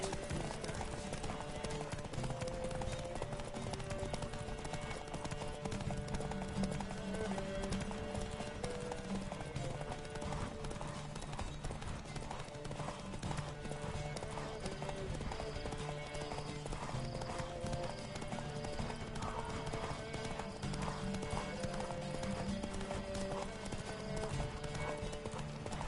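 Galloping horse hooves pound in a fast, steady clip-clop throughout a horse race in The Witcher video game, loud and continuous with game music and occasional shouts mixed in.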